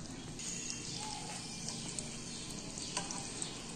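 Sliced onions fry in hot oil in a pan, a steady, dense sizzle with a few small crackles and pops that stays fairly even throughout.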